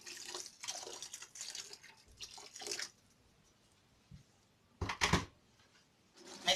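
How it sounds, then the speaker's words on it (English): Water is poured into a pot of yam porridge in a few short splashing bursts separated by quiet gaps, close by and with no talking. "I'll add little water,"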